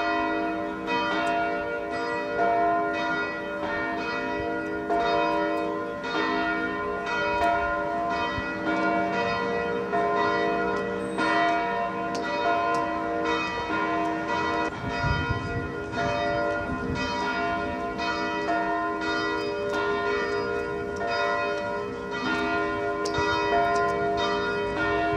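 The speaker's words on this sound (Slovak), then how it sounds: "presne o 11. hodine a 11. minúte rozozneli zvony kostola Božského srdca na námestí" Church bells of the Sacred Heart church ring out across a town square, a continuous rich peal of overlapping strokes sustained steadily throughout, loud and resonant with no voices.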